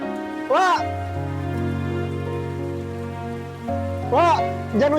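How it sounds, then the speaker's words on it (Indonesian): Steady rain pours down outdoors as a continuous hiss, with music and a voice calling out loudly over it at moments. "Jangan hujan-hujanan nanti sakit."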